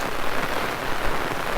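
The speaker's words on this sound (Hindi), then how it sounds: "अब जब बारिश की ज़रूरत नहीं है तो बरसात हो रही है।" Heavy rain pours down steadily on rice paddy fields, a dense, loud hiss of drops hammering a surface with no pauses.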